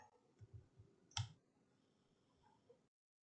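A single sharp mouse click sounds close and quiet in an otherwise still room, with a few soft faint ticks around it.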